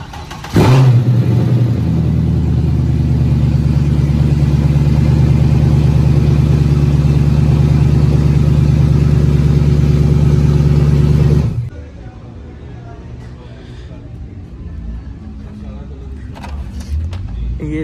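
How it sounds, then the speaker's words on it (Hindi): A Mercedes-AMG C63 W204 engine fires up and holds a loud, steady rumbling rev for about ten seconds, then cuts off abruptly, leaving a quieter garage background. "तो अभी स्टार्ट करवा के आपको आवाज़ चेक कराता हूँ ज़रा गाड़ी की।"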